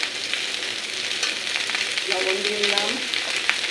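Food crackles and sizzles in a pan at close range, a steady frying hiss with light stirring, while someone speaks briefly partway through.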